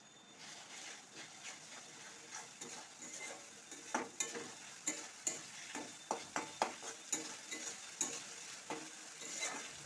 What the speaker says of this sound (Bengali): রসুন বাটা দিয়ে একটু নেড়ে নিয়ে দিয়ে দিচ্ছি 1 চামচ আদা বাটা